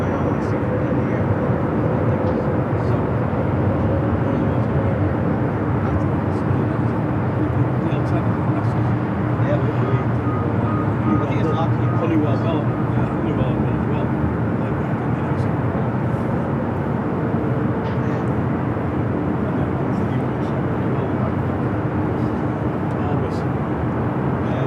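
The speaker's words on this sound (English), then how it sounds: "Arrival here on the north side, Alaska Airlines Flight 5, coming in from Reagan National, 737-800" An Alaska Airlines 737-800 jet arriving at LAX on the north side sends a continuous, fairly loud roar of jet noise across the whole stretch, with talk layered over it.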